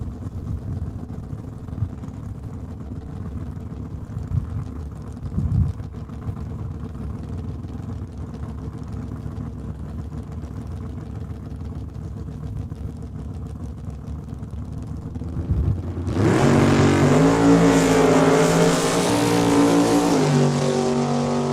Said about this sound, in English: Brandon Bennett doing a test pass with the Mustang